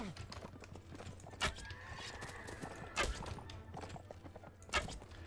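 Horses in the Mount & Blade video game battle, with three sharp hoof thumps spaced about every second and a half over a steady busy background and faint neigh-like tones.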